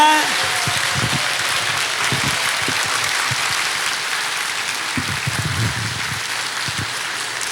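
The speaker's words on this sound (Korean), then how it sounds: "박수로 환영하겠습니다" An audience in a church gathering applauds to welcome pastor Go Bong-jun to the pulpit, a full hiss of many hands clapping at once, loud and continuous with scattered louder claps throughout.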